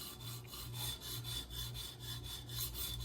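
A Leatherman Wave blade being sharpened on a coarse TSPROF stone, giving steady rhythmic rasping strokes back and forth, close and fairly even, with no talking.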